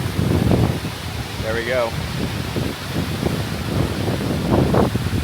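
Gusty wind near the waterfall at Sioux Falls, South Dakota, buffeting the microphone in low rumbling bursts that rise and fall throughout, with a brief spoken remark partway through.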